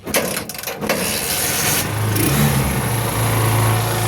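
A Honda Supremo motorcycle engine runs on choke, starting with a few rough sputters, then settling into a loud, close, steady high idle hum that holds for several seconds.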